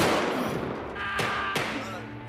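Two sharp gunshots cracking out against a dense, noisy battle background, loud and close.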